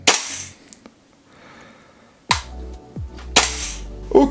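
A King Arms TWS 9mm SBR gas blowback airsoft gun fires semi-auto: three sharp, close snapping shots, one alone and then two in quicker succession, with faint mechanical clicks between them.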